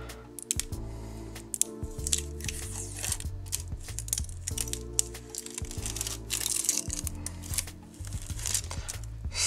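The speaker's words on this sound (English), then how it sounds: "Let's remove the tape and see how it looks on the inside." Tape peeled and pulled off a cooled resin dragonfly diorama mold, giving a dense run of close crinkling, crackling and ripping noises over a low steady hum, with no talking.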